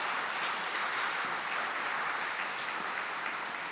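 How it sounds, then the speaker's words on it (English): A conference audience at Bitcoin Expedition 2023 applauds steadily, a dense, even wash of many hands clapping that holds at the same loudness throughout, with no voices rising above it. "let's give it up for Ilya and Andrew"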